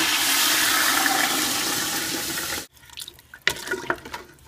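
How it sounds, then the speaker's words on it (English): Water poured from a container into a pot of browned chicken pieces for stock, a steady loud splashing rush that stops abruptly, followed by a few faint drips and clinks. "Add a couple of quarts of water."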